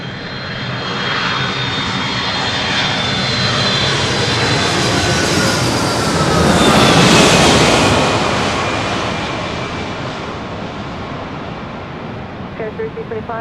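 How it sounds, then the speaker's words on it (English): Delta Airlines jet arriving at LAX from Boston, a loud sustained roar of engines that swells to a peak midway as it passes close, then slowly fades. "This is Delta Airlines 504 coming in from Boston."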